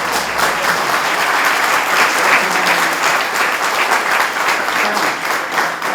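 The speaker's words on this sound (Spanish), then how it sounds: "si me quieren meter un aplauso ahora" Loud, sustained applause from an audience at an agroecology talk, dense, even clapping from many people filling the room with no break.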